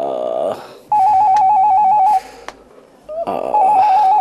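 A telephone rings with a warbling electronic trill in two bursts separated by a pause, loud and close, with brief rustling sounds in between.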